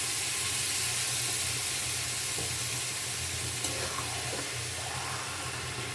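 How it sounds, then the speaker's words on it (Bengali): Meat just added to a pan with bay leaves sizzles and hisses in a steady, loud, continuous fry, with no talk over it. "এর মধ্যে আমি এবারে মাংসটা অ্যাড করে দিলাম"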